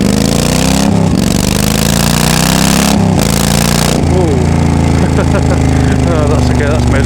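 A Yamaha V Star 1300 motorcycle engine revs up at high RPM while riding, a loud, steady droning roar with rising pitch sweeps and strong wind rumble close to the microphone.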